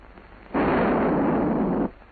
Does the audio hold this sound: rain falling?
no